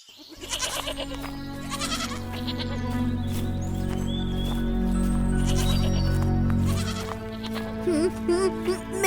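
Cartoon goats bleat over and over, several overlapping wavering cries close up and loud, set against a dense busy background of music and effects.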